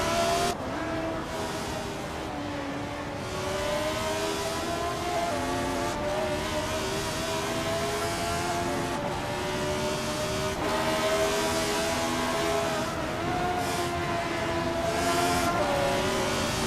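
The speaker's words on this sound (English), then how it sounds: "the race just kicked off at Goodwood" Racing cars roar off the line at a Goodwood historic race, including a 1971 Brabham BT34 starting on pole, with loud, steady overlapping engine drones rising in pitch through upshifts and a brief tire squeal.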